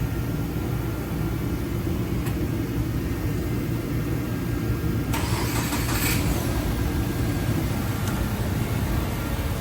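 A Subaru Crosstrek with a 6-speed manual, fresh from rear wheel bearing replacement, runs in a steady close engine drone with a brief brighter rev partway through.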